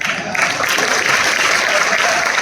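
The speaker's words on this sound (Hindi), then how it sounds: "जोरदार तालियां सबके लिए" Enthusiastic applause from a crowd at an RCM business seminar in Aurangabad, dense and sustained clapping that fills the room steadily from start to finish.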